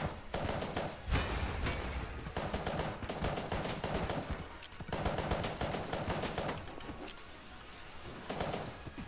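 Rapid gunfire in the Enter the Gungeon video game, steady streams of quick repeated shots in loud bursts broken by brief pauses, with no talking.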